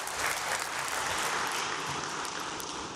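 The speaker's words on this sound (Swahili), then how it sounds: "Tujipigie makofi wanachama." Young Africans club members applauding at a members' meeting, a dense, even wash of clapping from a large crowd, sustained for the whole stretch without talk.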